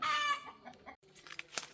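Chickens clucking close by in a netted coop, a string of short, bright calls at the start, then scattered clucks and a sharp squawk after a brief pause.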